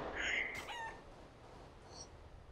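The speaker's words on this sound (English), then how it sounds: "There's a chicken right there" A chicken in the video game CS:GO, heard at low level: a short raspy crowing squawk, then a faint higher cluck about a second later, with no one talking.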